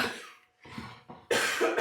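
A few short, sharp coughs close by, in bursts separated by brief pauses, the last one loudest.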